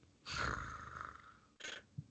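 A long, rasping snore sounds close and loud, with a rough, chainsaw-like rattle. A shorter second snore follows after a brief pause.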